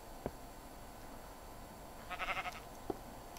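A sheep in Minecraft bleats once, a short, faint call in the middle of the clip, set between two soft clicks over a low hum of background noise.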